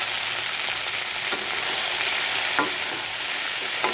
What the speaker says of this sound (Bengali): এবার ভেন্ডি আর বেগুন করেছি, ভেজে নেব